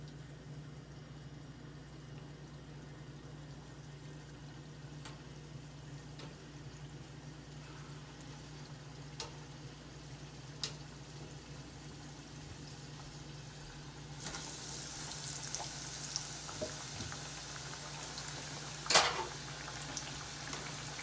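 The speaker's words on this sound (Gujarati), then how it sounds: "હવે આપણે આ કોર્ન સ્ટાર્ચ નાખી દીધો છે અને એકદમ ડ્રાય થઈ ગયું છે હવે આપણે એને ફ્રાય કરીશું" Cornstarch-coated potato french fries sizzle and bubble in hot oil, a steady soft frying hiss that continues quietly throughout and grows slightly brighter toward the end, with a few faint clicks.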